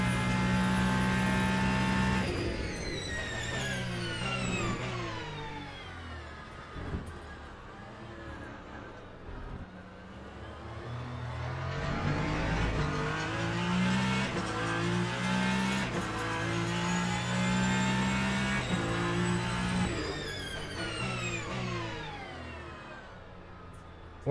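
A hypercar in the Le Mans Ultimate racing game at Spa roars through repeated surges and gear changes, rising and falling over about twenty seconds during an online championship race. It is continuous and prominent, with no talk.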